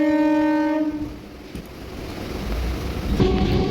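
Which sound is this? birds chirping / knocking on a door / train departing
train departing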